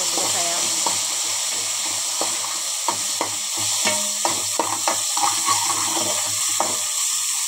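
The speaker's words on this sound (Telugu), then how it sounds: "ఇందులోకి ఆవాలు యాడ్ చేశానండి తర్వాత కొద్దిగా మినపప్పు 2 ఎండుమిర్చి కరివేపాకు కూడా యాడ్ చేసుకున్నామండి కొద్దిగా ఫ్రై అవ్వాలి" Mustard seeds, urad dal, two dry red chillies and curry leaves sizzle in hot oil for a yogurt tempering, a continuous close hiss with small crackles and the scrape of a spoon stirring.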